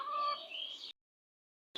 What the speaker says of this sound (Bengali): এই দিয়ে খাওয়াবো এখন মুরগিরে